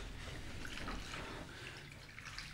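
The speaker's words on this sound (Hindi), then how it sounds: "अब हम इस पर पानी डालने जा रहे हैं ये पानी डाल दिया" Water poured onto burning mobile phones, a steady splashing, trickling pour with some dripping, moderately close and continuous throughout.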